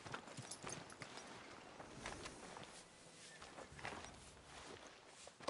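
Horse hooves walking in Red Dead Redemption 2, a steady clip-clop of footfalls over a busy game ambience with no talk.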